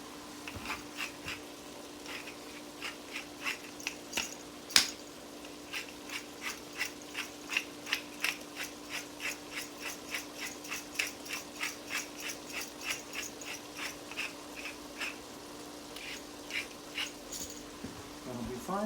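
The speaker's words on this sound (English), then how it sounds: "Now I'm going to grind in a little more pepper." Close, rapid ratcheting clicks come from a hand pepper mill grinding more pepper into chestnut dressing at a cooking school, a long even run of crisp twists with a few louder knocks and faint background sound.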